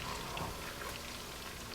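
Potatoes fry in a pan, stirred and scraped with a spatula, making a steady soft sizzle with light crackles and occasional scraping, fairly quiet and close, without speech.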